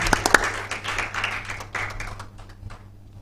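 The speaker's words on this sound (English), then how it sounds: "Thank you so much, Evelyn and Nyangweso. A round of applause." A short round of audience applause at an awards and report launch event, a few sharp claps up front fading into softer scattered clapping over about three seconds.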